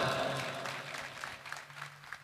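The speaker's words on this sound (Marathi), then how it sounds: "त्या दोघांसाठी जोरात टाळ्या वाजवा." An audience at a Shivaji Jayanti celebration claps loudly. The dense applause sounds nearby and fades slightly over a couple of seconds.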